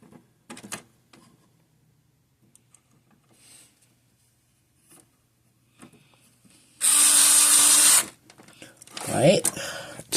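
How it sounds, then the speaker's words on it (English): An electric screwdriver runs for a single loud, steady whir lasting about a second while driving a screw into a Magnavox DVD VCR combo unit, with faint handling clicks and quiet sounds before and after. "We'll put the screw right there with my electric screwdriver."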